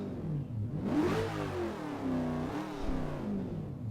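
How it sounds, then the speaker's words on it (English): An Aston Martin's V8 engine revs up and down in Project CARS, the pitch rising sharply then wavering through several throttle blips, close and loud. "It's got a V8 engine in there."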